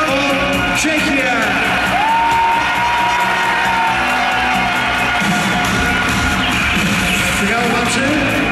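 A large event crowd at a ski jumping competition, loud continuous cheering, whooping and yelling that fills the whole stretch, with an announcer's voice mixed into the din.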